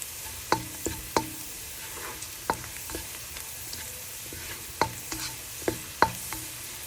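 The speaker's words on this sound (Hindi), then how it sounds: "तो हल्का सा हमने सौते करना, ऐसे थोड़ा सा ब्राउन हो जाता है ना" Garlic sautéing in a pan for Japanese fried rice makes a faint background sizzle, broken by sharp, intermittent taps and clinks of a spoon stirring against the pan every second or so.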